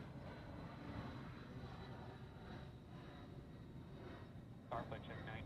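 A flight check aircraft flying a run over Honolulu's airfield comes through as a faint, distant, continuous engine drone, with a steady roar and brief radio chatter cutting in near the end.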